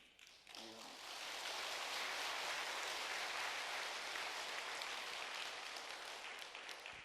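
Sustained audience applause filling a church hall during a testimony worship service, a dense even wash of clapping that rises quickly and holds steady, with no speech over it.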